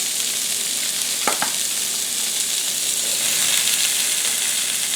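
Sausages searing in a hot pan make a steady, close sizzle and hiss that fills the whole stretch, with a couple of brief clinks near the start and no talking.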